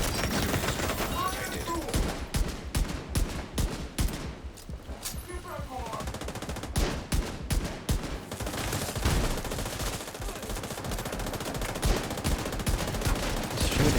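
Sustained gunfire in The Division 2, with dense automatic bursts and rapid single shots nearly nonstop, loud and close, and a voice talking over the shooting.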